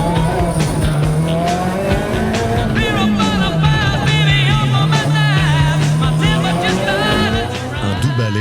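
Historic rally car racing flat out on a long special stage through Corsican vineyards during the Tour de Corse Historique, a loud close engine droning and shifting pitch through gear changes, with tire noise throughout.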